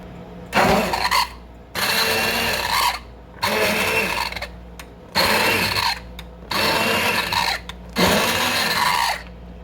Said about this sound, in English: now I'm gonna just immersion blend some of it